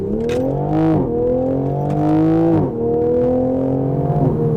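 A 2020 Toyota Supra's twin-turbo engine revs hard and accelerates at about 80% throttle, pitch climbing through several gear changes with brief dips between shifts, loud and close.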